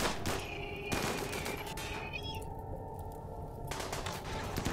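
Rapid bursts of gunfire in the video game Rimworld, aimed at a ship, rattle continuously at close range under a steady game soundscape.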